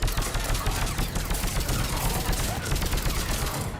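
Rapid, dense automatic gunfire from Mass Effect 3 rattles continuously, loud and close, with sustained overlapping shots and a faint voice mixed underneath.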